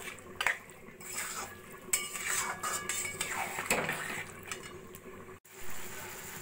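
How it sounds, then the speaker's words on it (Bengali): Mutton pieces coated in spices are stirred in a pan, a spoon scraping and clinking against the metal in an irregular run of knocks and rasps at moderate, close range. "এবার এইভাবে নাড়া দিয়ে দিয়ে যতক্ষণ না বেশ কষা কষা হচ্ছে আমি রান্নাটা করে নেব।"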